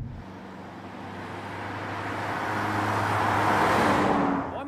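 A 2014 Mercedes CLA 45 AMG accelerates hard from inside the cabin, a steady engine drone building in loudness over several seconds before easing off near the end, with no talking.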